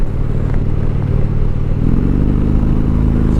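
Indian Chieftain motorcycle cruising in sixth gear around 2250 RPM, a loud, steady low engine rumble with wind noise, its pitch settling and smoothing partway through, with no voices.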